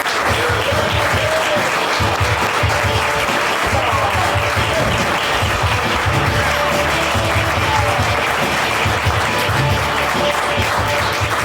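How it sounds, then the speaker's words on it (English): A studio audience gives sustained, loud applause for actor John Kapelos on a talk show, dense clapping continuing evenly for over ten seconds with a low murmur of voices and faint cheering underneath. "Everyone give a round of applause for John Kapelos"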